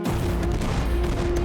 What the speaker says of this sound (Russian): Через 10 дней после прибытия французы начинают обстрел.